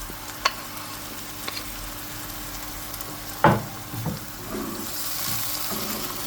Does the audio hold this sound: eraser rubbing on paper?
no